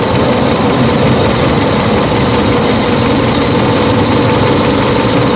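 A car engine idles loudly and steadily at close range during a vacuum valve test for a P0401 fault, a dense continuous rumble with no stumble or break.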